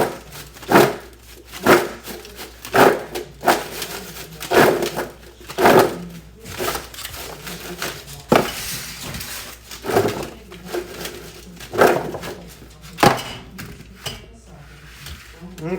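A foil baking pan of food is shaken in a home kitchen, giving a series of regular crinkly metallic rattles and thumps about once a second, close and fairly loud, with someone talking in between.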